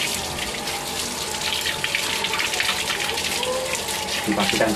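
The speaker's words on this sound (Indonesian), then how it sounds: "Ini air mengalir." Water runs steadily from a tap while a keris blade is rinsed during a traditional cleaning, with a continuous splashing gush and occasional muffled voices nearby.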